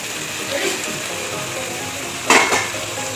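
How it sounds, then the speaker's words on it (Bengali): Fried prawns are tipped into cabbage in a pan, bringing a steady close sizzle, a few light utensil clinks and one sharp clatter of metal near the end. "দিয়ে দেবো ভেজে রাখা চিংড়ি মাছ"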